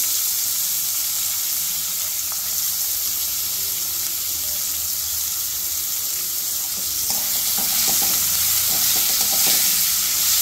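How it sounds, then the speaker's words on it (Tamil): Onions tipped into hot oil for ragi rava upma, a loud continuous hiss of frying that grows stronger, with brief spoon clatters and stirring toward the end. "கவர்ந்த உடனே வெங்காயத்தை போட்டுக்கோங்க."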